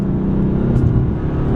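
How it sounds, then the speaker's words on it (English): A BMW M4 while driving, its exhaust a deep, steady rumble heard from inside the car, loud and constant with a slight swell in the middle and no talking over it. "Listen to it, that exhaust, it just sounds so good."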